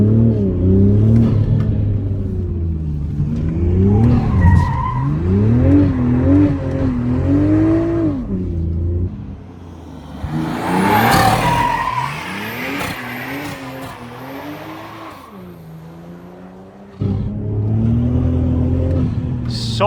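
A BMW Z4 driven hard, its engine climbing and falling through revs while the tyres squeal and skid in long wavering streaks, loud and close, dropping briefly quieter midway before surging again.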